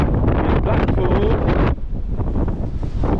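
Strong gusts buffet the microphone in Blackpool town centre, producing loud roaring rumble that eases slightly partway through while someone talks underneath.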